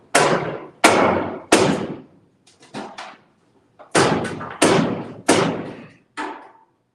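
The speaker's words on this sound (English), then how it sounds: "now I gotta use this tool as a hammer" Eight loud, sharp impacts ring out at a framing job as a tool is swung like a hammer, struck in two groups with a pause between, each hit decaying quickly, with a few faint taps in the gap.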